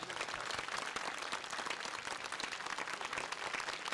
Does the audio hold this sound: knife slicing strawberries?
no